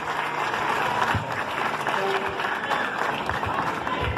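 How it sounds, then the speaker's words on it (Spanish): Audience at a sociocultural program during the 2019 Virgen del Carmen festival applauding, a sustained, even roar of clapping with crowd murmur and some voices mixed in. "Un fuerte aplauso para ellos"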